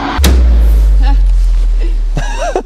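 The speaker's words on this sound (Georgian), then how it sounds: "აი G-კლასის კარის დაკეტვის ხმა როგორ მოუწონთ" A Mercedes G-Class door shuts with a single heavy, solid thud near the start, followed by a low rumble and people talking nearby.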